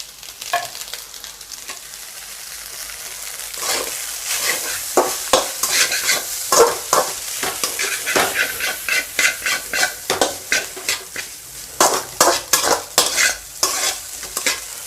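Egg pepper rice is stir-fried in a pan, a steady sizzle under repeated rhythmic scraping and tossing strokes of a spatula, close and loud with no talking.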